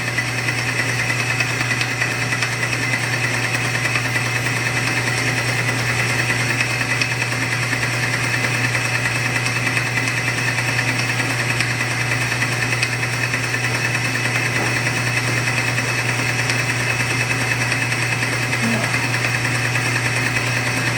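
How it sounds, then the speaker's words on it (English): Machine tool chamfering a fuel cell ring cut from bulk stock, giving a steady, unbroken whine and hum that stays even for about twenty seconds. "I have this one set up for chamfering."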